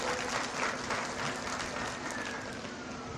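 Audience applauding at a middle school eighth grade recognition ceremony, steady crowd clapping filling the hall with a faint tone underneath.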